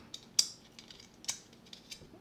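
A plastic case snapping onto a Jetstream Lightouch 4+1 multi-pen, heard as two sharp clicks about a second apart, close and fairly quiet with faint handling noise between.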